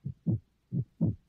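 A heartbeat sound effect meant to suggest a frightened, terrified heart: two deep, muffled lub-dub thumps pulse at a steady rhythm, close and clear with nothing else around them.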